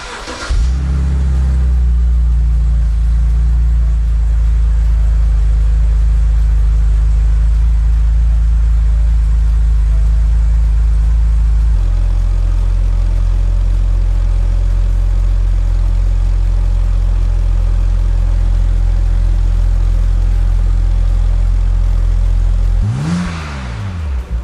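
A BMW 330ci race car fitted with eBay headers fires up and settles into a loud, steady, close idle with a deep rumble that steps down in pitch midway, then cuts off near the end.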